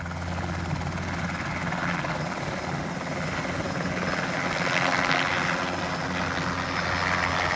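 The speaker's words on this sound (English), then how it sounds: "it was kind of neat, other than it being a little scary that the helicopter came so close to us" A helicopter passes close overhead at the Braddock Bay Hawk Watch, its rotor and engine a loud, steady, throbbing drone that fills the whole stretch without letting up.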